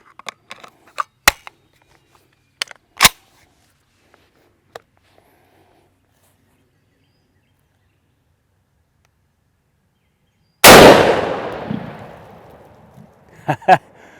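A single loud, sharp rifle report from a .300 Win Mag firing a 150 grain Hornady InterLock bullet over a chronograph, with a long ringing decay. A few faint clicks and taps come before it.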